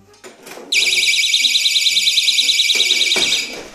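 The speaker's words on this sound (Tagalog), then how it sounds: "Hindi nga alam yung alarm." A door and window entry alarm sounds a loud, continuous warbling siren for about three seconds, preceded and followed by a person talking nearby.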